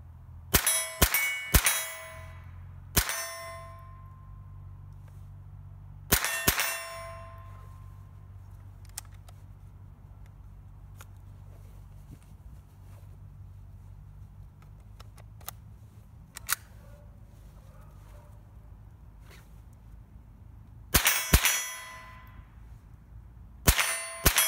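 Several sharp gunshots from a Chiappa M1-22 .22 carbine ring out, first in a quick burst of four or five, then a pair after a pause and another cluster near the end. They are loud and close, with quiet stretches between them.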